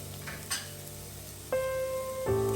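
Onions browning in a hot pan for pepper chicken, with a soft, continuous sizzle, a few brief clinks, and a steady electric hum from the stove setting in partway through.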